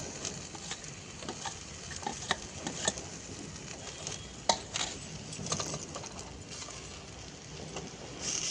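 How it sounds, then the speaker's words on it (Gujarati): Onions fry in a pan for a village-style fresh turmeric sabzi, giving a faint, soft sizzle. Occasional light stirs and utensil taps break through the quiet background. "ડુંગળી આપણી આવી ગુલાબી જેવી શેકાવી જોઈએ"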